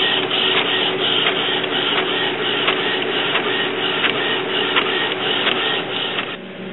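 An Epson WorkForce inkjet printer, likely a WF-2540 series model fitted with a continuous ink supply, runs steadily and loudly, its mechanism whirring with regular rhythmic clicks and carriage pulses throughout, then easing slightly near the end.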